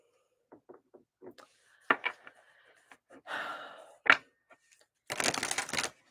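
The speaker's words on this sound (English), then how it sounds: "I just need to kind of shuffle my tarot first" Tarot cards being shuffled, soft papery riffles and taps in short bursts, ending with a longer dense flurry of card shuffling, close and quiet with light breathing between.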